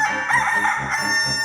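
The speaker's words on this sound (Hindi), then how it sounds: "भैया मुर्गा बोला मुर्गा, सुबह हो गई सुबह" A rooster crows loudly and close by at morning, a strained, wavering cock-a-doodle-doo filling the whole moment, with no talking over it.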